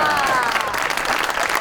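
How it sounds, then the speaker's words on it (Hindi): Loud audience applause fills a Pakistani TV comedy talk show studio, dense steady clapping throughout with a voice faintly carrying over it. "तो इनके लिए एक दफा जोरदार ताली"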